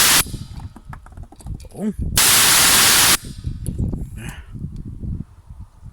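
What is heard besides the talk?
Hawk Tools twin V air compressor auto cut-off air release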